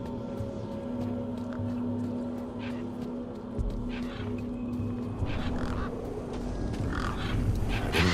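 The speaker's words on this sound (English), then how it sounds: "Those birds weren't going to let me anywhere near the back of the truck." A flock of birds in a video game squawks and honks in scattered, overlapping calls over a low background hum, growing busier and louder toward the end.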